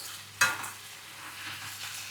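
Ingredients fried in a pan with a faint continuous sizzle, broken by one sharp scrape of stirring near the start and softer stirring movements after.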